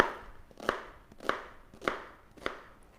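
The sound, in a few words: sharp knife finely dicing onion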